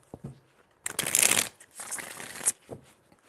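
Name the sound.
shuffling tarot cards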